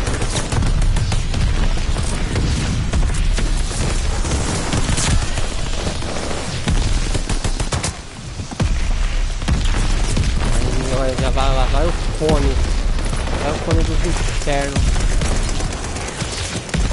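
Machine gun fire and explosions in Call of Duty Vanguard form a dense, loud barrage of rapid shots and booms, with voices talking over the game sounds.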